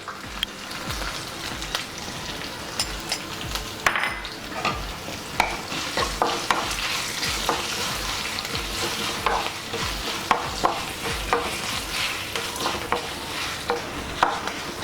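Raw jackfruit frying with turmeric over a low flame, a steady close sizzle with frequent scraping stirs and small crackles throughout, no voices.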